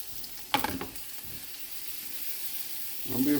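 Chopped onions and jalapeño peppers sizzle in hot bacon grease in a pan, a steady close frying hiss with brief clattering stirs near the start and end.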